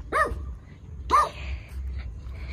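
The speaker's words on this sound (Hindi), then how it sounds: "किस पे भौंक रहा है तू?" A dog barks twice, close by, about a second apart, with low background rumble between the barks.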